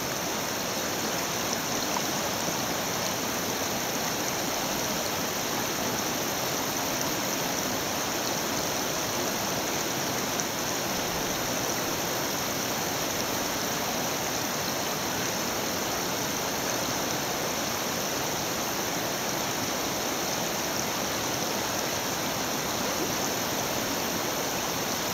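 A waterfall and flowing stream roar in a steady, continuous rush of water throughout, loud and close, with no pauses.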